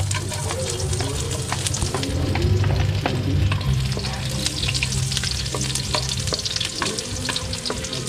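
Garlic sizzling in hot oil in a wok-style pan, a loud, steady crackling hiss that runs throughout, with occasional sharper pops and stirring scrapes.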